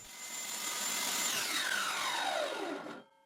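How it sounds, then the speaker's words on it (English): A table saw trims the edge of a wooden circle turned on a circle jig, a sustained whining cut lasting about three seconds before the blade sound drops away, fairly close and steady. "now I can finish trimming the wooden circle"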